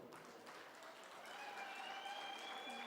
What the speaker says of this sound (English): can we give Botswana a big round of applause?